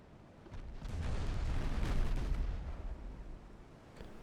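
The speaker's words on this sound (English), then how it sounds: "That was a pretty good 7-inch volley." A volley of 7-inch naval guns booms out in the Ultimate Admiral Dreadnoughts game, a rolling cluster of heavy blasts that swells to a loud rumbling peak and then fades away.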